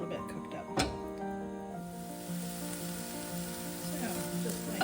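Ham warming in a pan for tortellini gives a low, soft sizzle under someone talking, with a brief clatter near the start.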